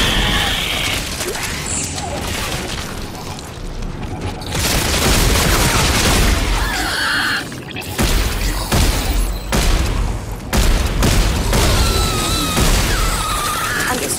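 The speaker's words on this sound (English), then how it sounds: "I'm just straight shooting the thing" Heavy, continuous weapon fire and mechanical clatter in Dead Space 3, loud and dense throughout the stretch, with brief dips between bursts.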